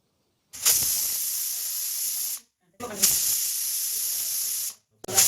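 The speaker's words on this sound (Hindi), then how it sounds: "तो ये देखो 3 सीटी हो चुके हैं" A kitchen pressure cooker cooking chicken soup lets out two long, loud hissing whistles of escaping steam, each lasting about two seconds, with a third starting at the end and short silent gaps between.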